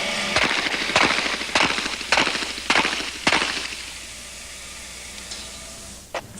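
Rapid gunshots at an action shooting match at a training range, a string of five or six sharp cracks in quick, fairly even succession, then a quieter pause and one more distant shot.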